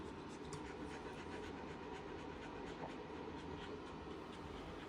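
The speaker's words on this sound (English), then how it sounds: "So this panting, I think it's just the natural thing that happens after a dog has a whole litter of puppies." A mother dog, a Doodle that has just birthed a litter of eight puppies, pants in a fast, continuous rhythm of rapid breaths, close and steady throughout.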